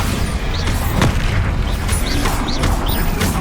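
Bombarda blasting spell going off in Hogwarts Legacy, a dense loud booming explosion with crackling debris and several sharp impact bursts over continuous battle noise, no voices.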